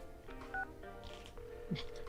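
Telephone keypad tones beep in quick succession as a number is dialed in Persona 4 Arena Ultimax, short clear tones with speech faintly present.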